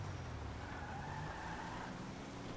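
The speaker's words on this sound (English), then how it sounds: "I love this fucking electric car" An electric car drives in a video game, giving a steady faint whirring hum with tire noise and no breaks.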